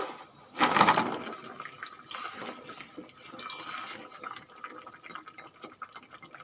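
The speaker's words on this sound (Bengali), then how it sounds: "শিরা ভালোভাবে ফুটে গেছে এখন আমি এই ছানার জিলাপিগুলো দিয়ে দেব" Chhana jilapis slipping into a pot of boiling sugar syrup, a clattering splash followed by softer utensil scrapes and bubbling kitchen sounds, fairly quiet and close.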